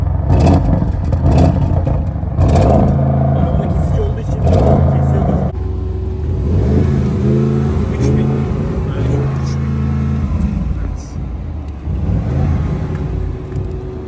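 An Audi RS6 engine rumbles up close and revs a few times, its pitch rising and falling, while people talk over it.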